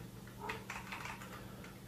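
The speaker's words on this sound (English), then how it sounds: "I'm typing the wrong thing" Quiet keystrokes on a Sinclair QL home computer keyboard, a short burst of soft irregular taps over a low background hum.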